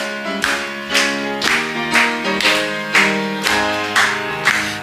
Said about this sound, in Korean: 우리 박수 치면서 찬양하겠습니다.